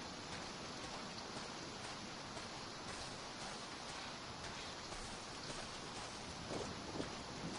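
Steady rain in the VR game Resident Evil 7 Daughters, a constant dense hiss of falling water with faint high chirping above it, loud and unbroken throughout with no talking.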